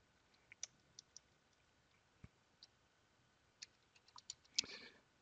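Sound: typing a command on a computer keyboard

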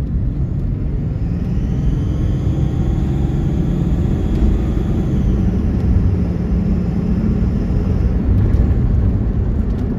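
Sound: 6.7 Ram Cummins diesel truck accelerating at wide open throttle

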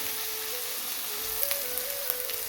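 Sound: onions and cashews sautéing in a pan

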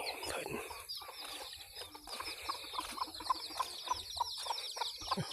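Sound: chickens clucking

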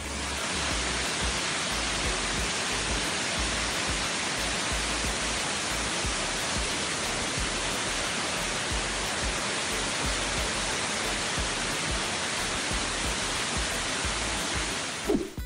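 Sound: waterfall at Sungai Gabai, Selangor

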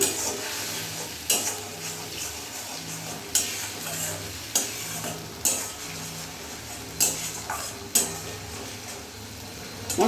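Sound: spices with Kashmiri chilli powder being fried and stirred

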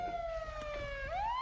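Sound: police car siren in a roleplay video game

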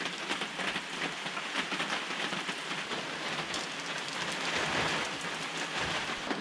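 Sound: heavy rain falling

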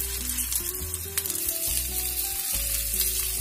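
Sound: pressed taro (arbi) patties frying in oil

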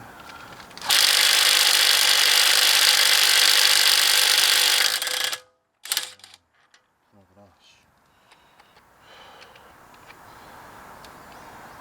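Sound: 20V impact wrench loosening a bolt

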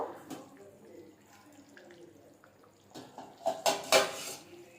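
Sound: fried potatoes added to chicken curry in pan

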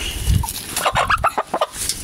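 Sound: rooster and hens clucking

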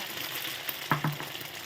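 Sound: eggs with cha-om frying in a hot pan

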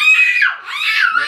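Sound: screaming

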